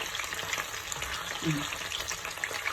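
Pieces of chicken breast fry in hot oil in a pan for Korean fried chicken, giving a close, steady crackling sizzle throughout, with no talking.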